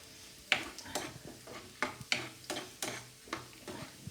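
Garlic fries in oil, making a soft background sizzle that is broken by irregular sharp ticks and scrapes from stirring in the pan, fairly quiet and close.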